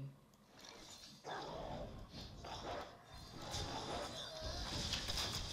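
Hunting dogs summoned by the Unleash the Hounds card in the Hearthstone card game: a burst of game barking and yipping effects over layered game noise, with someone talking over part of it.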